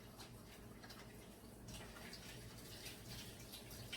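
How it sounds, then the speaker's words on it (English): Hands being washed under a running tap before preparing sweet smoked salmon, a steady faint rush of water that runs continuously and grows slightly fuller partway through, with no talking. "I'm going to go ahead and wash my hands and get things going."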